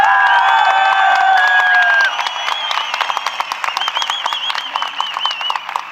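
A crowd claps and cheers at a sanitary pad promotion event, dense continuous applause with whoops and shouts, loud and close throughout, dipping slightly after the first couple of seconds.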